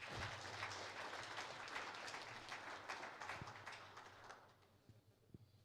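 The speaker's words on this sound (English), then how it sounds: "I want to believe that the Controller General deserves another resounding round of applause." A crowd at a prisons event applauds the Controller General, dense clapping that holds steady and then thins out, ending in a few last scattered claps.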